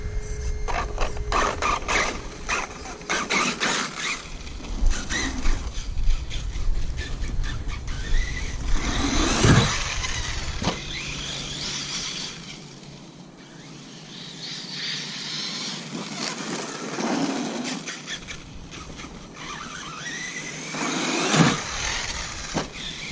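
An Arrma Kraton 6s RC car bashing in a backyard, its electric motor whining and surging in repeated bursts, loud and close with rough broadband noise from the driving and tumbling.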